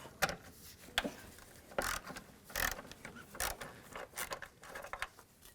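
Ratchet clicks from a 13mm socket wrench loosening the battery hold-down on a Dodge Grand Caravan, several short bursts of close metallic ratcheting spread through the clip.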